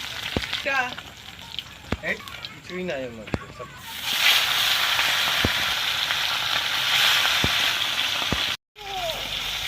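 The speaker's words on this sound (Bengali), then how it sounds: "মশলা মাছগুলো ভেজে নিচ্ছি" Spiced fish fries in hot oil in a kadai, a steady loud sizzle that swells midway, with sharp spatters and utensil taps; a voice speaks over the opening seconds.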